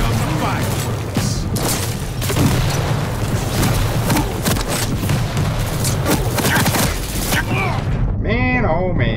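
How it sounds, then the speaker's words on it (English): Fireworks in the video game Quake Champions during a deathmatch: a dense, loud barrage of rapid booms and crackling blasts that runs without a break, then gives way to fading whistling tones at the end. "Here come the fireworks."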